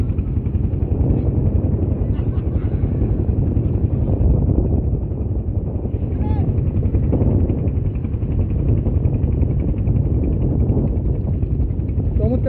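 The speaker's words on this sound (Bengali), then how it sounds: "বাতাসের সাথে হাওরে পুরো ঢেউ আছে এবং প্রচণ্ড বাতাস।" Strong wind sweeps across Nikli haor, a wetland in Kishorganj, Bangladesh, whipping up waves; a continuous, heavy roar of gusts buffets close and loud the whole time.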